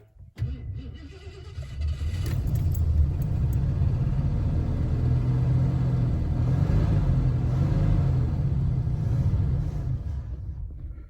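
A Lincoln Mark V Collectors' Series engine that has long sat unused runs steadily after starting, a loud, continuous low rumble that holds for most of the clip before easing at the end.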